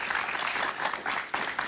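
Studio audience applauding a guest at the start of a talk-show interview, a brief, steady patter of many hands that holds even throughout.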